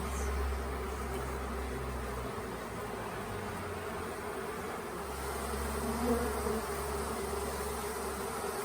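A bee swarm buzzing as the bees fly into a box at a hotel, a dense continuous droning hum of many insects close by, steady throughout with slight swells.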